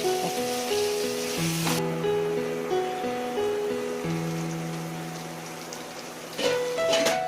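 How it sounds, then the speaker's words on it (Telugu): Salted onions sizzle and crackle as they fry in oil for a bitter gourd curry, a steady soft hiss that runs throughout beneath tonal background music. "ఆనియన్ బాగా ఆయిల్లో ఫ్రై అయిపోయిన వెంటనే"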